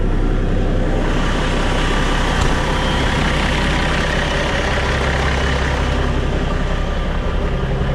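Old truck engine idling just after a cold start, a loud, steady close rumble that holds throughout with no talk over it.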